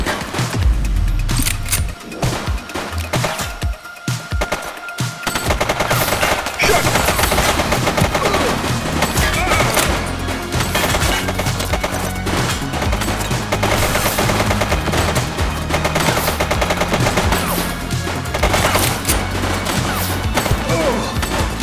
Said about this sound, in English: She's shooting! Did you hear that?